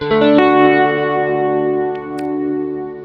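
Sustained synth tone run through a Kurzweil KSP8 reverb unit, loud and thick with harmonics, fading slowly in a long wash of reverb tail, with no talking over it.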